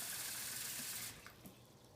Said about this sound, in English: fill the cup up to the line where it says 1 cup